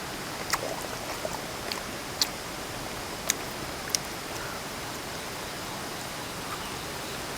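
Rain falls steadily at a campsite in a valley by a stream, a soft even hiss with occasional sharp drips and taps landing close by.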